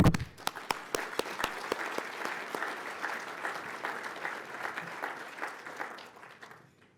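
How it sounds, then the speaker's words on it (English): A gala audience applauds at an annual chamber of commerce dinner: sharp individual claps at first swell into dense, sustained clapping from a large crowd, then fade gradually toward the end. "please join me in applauding those who have made our success possible"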